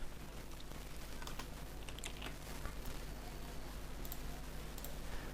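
Faint, sparse key clicks from a computer keyboard, typed in short irregular taps over a steady low hum.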